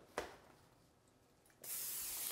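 A short hiss of aerosol cooking spray onto a sheet pan bursts out, then after a pause a louder, steady spray hiss runs continuously to the end, close by.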